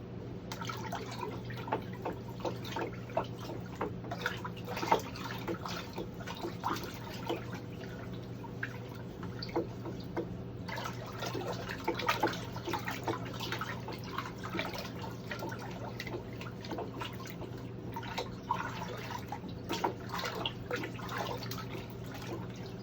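Molasses being stirred into a batch of compost tea, a continuous sloshing and dripping of liquid with many small splashes and clicks over a steady low hum, close and even throughout.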